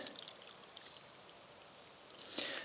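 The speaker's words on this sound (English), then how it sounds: "We now have output at the top of our delivery pipe." A thin stream of water pours and trickles from the top of a half-inch ram pump's delivery pipe outdoors, a faint, steady flow that swells briefly near the end.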